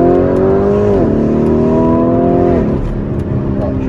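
Modified Lamborghini Urus accelerating hard from the interior, its engine tone loud and rising steadily, dipping briefly at a gear change before climbing again.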